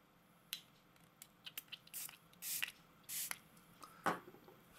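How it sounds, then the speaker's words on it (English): Liquid screen protector sprayed onto glass, a few short close hissing spray bursts among soft clicks and handling noises. "use the light side and spray it on twice, and then wipe it in a single direction"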